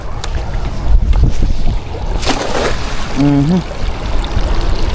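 Steady wind rushing over open water while fishing from a boat, with lapping and boat noise; a brief voice breaks in partway through.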